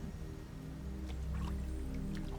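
Water in a greenhouse pool in Myst IV makes soft drips and small splashes over a steady low ambient hum, faint and sparse.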